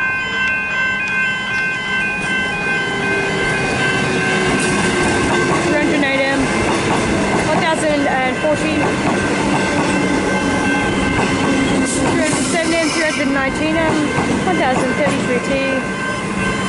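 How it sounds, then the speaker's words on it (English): A Melbourne suburban train pulls out of the station with steady, loud rumbling, rattling and clicking of wheels on the rails, and a faint squeal runs through it. "And the train's now departing."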